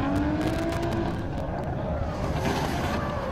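Yvon Buisson's drift car launches hard on a track at a Pure Drift competition. A steady, distant engine roar and tire noise run throughout, with a brief engine tone at the start and faint voices underneath.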